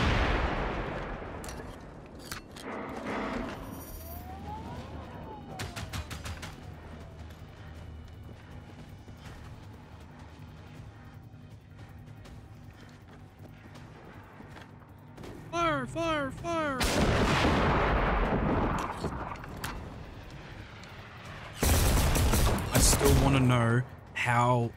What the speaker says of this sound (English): Phoenix does orbital bombardments like that.